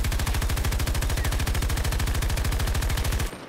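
Rapid automatic gunfire in a video game, a dense, evenly spaced burst of loud shots firing without pause for about three seconds before cutting off abruptly.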